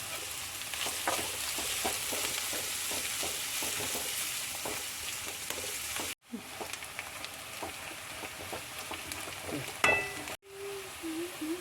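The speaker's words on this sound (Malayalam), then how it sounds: "സബോളയാണ് നമുക്കിത് ഇട്ട് കൊടുക്കാം." Sliced onions and curry leaves fry in a pan for Kerala-style kadala curry, a dense close sizzle with stirring scrapes and clicks, briefly cut off twice.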